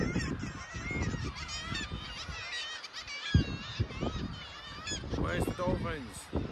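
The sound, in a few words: seabirds squawking and growling on Scottish cliffs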